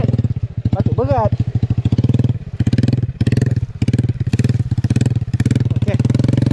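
A motorcycle engine runs steadily and loudly for the whole stretch, pulling on a jungle trail, with people talking over it throughout.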